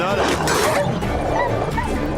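Dogs barking and yelping in The Witcher 3: Wild Hunt during a fight on horseback, the barks dense and continuous over game noise and someone talking.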